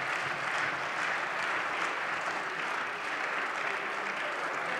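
Members of a German state parliament applaud during a debate, a sustained, even burst of clapping from many hands filling the chamber, with no speech over it.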